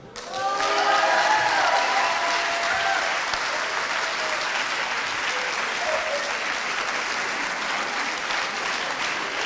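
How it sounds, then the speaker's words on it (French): Loud, sustained applause from an audience honoring a student award winner at a school prize ceremony, steady clapping filling the room, with a brief voice over the first second. "On l'applaudit encore une fois."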